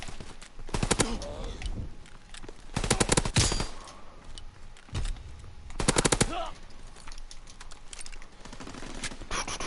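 Strafing machine-gun fire in a Star Wars battle video game, coming in several loud rattling bursts with pauses between them against steady background battle noise.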